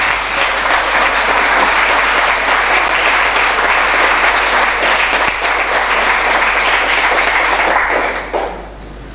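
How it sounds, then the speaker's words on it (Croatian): An audience at a literary event applauds author Vladimir Tabašević with loud, dense, sustained clapping that fills the room and fades out near the end. "Molim vas, jedan veliki pljesak za Vladimira Tamaševića"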